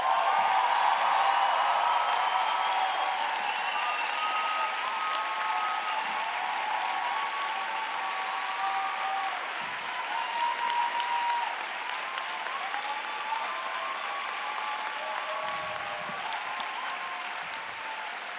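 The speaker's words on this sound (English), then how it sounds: "my friend Imad Abu Kishek, to stand and acknowledge the applause of the crowd." Sustained applause fills the 2024 Bard College commencement ceremony, a dense, even clapping from a large crowd that continues without a break and fades slightly toward the end.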